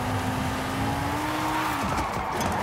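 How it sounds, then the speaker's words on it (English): Wheel spin from a Cupra Formentor VZ5 concept in a Forza racing game, a high droning engine whine with tire squeal that steadily holds, then drops and breaks into rougher scrabbling noise, loud and close. "Oh, it's having a wheel spin."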